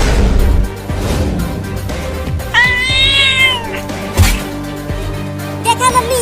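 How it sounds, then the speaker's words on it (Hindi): A cat yowls loudly and close with drawn-out, wavering meows and scuffling thumps, as if fighting, amid indoor commotion. "देखा मम्मी, ये बिल्ली कितनी ढीठ है"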